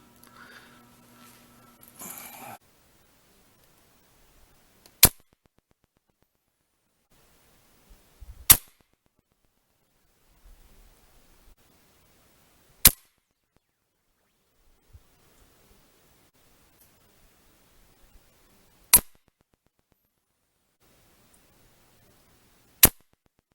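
A Crosman Shockwave .177 air rifle fired from a tripod with Gamo red tip pellets gives five sharp, isolated shots spaced several seconds apart, loud and close against near silence.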